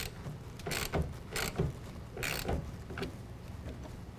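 A 1/2 inch ratchet tightens a clamp on an UnderCover Armor Flex tonneau cover against a truck bed cap, giving several soft, close clicking and creaking strokes at an uneven pace over a quiet background.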